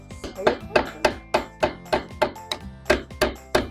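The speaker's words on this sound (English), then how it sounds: "We're gonna hammer that." A small hammer driving nails into treehouse wood, struck in a steady, even rhythm of about fourteen loud, close, ringing blows with no pause.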